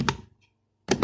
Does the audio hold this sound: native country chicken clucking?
no